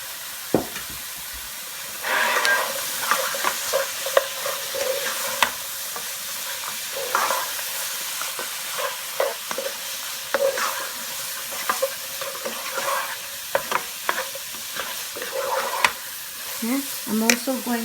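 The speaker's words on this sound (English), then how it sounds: "Now we add the last two ingredients, which is the okra and the potatoes" Okra and potatoes tossed into a hot okra curry pan fry with a steady sizzle, broken by repeated scraping strokes of a stirring spoon over about eighteen seconds, close and moderately loud, with no one speaking.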